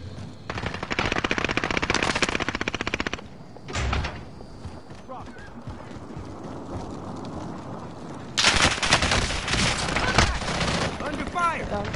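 Automatic weapon fire rattles in rapid sustained bursts in the Warzone battle royale game, one long volley, a lone heavy thump, then another dense burst near the end over a low background rumble, with no one talking.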